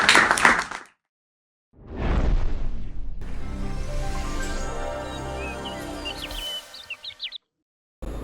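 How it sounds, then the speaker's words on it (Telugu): An audience bursts into clapping in two short rounds, loud and close, before music with chirping bird effects takes over. "ఒక్కసారి జోష్గా చప్పట్లు కొట్టండి."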